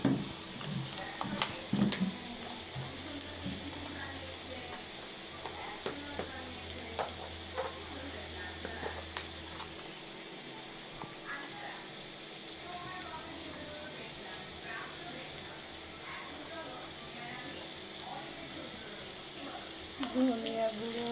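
Garlic and powdered spices fry in a pan for eggplant cooked with hilsa fish, a soft steady sizzle running throughout, with occasional stirring clicks and scrapes near the start and end; no talking.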